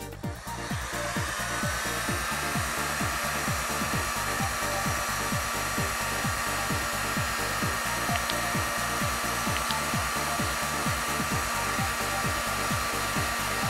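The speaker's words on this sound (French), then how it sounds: "Et le seul outil nécessaire maintenant, c'est le décapeur thermique." A heat gun blows a steady, loud whir while shrinking a solder sleeve connector onto wires, a continuous airy hum with a regular ticking pulse underneath, no voices.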